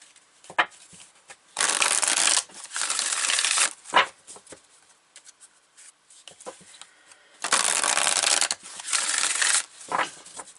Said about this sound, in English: All right, so I'm gonna pull some cards.